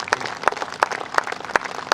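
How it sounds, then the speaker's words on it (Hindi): Scattered hand claps from an audience at a kavi sammelan poetry gathering held at a police line ground in Palamau, Jharkhand, coming as a loose, uneven patter of separate claps rather than a full ovation. "जोरदार ताली बजा दें"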